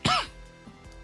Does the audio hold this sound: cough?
yes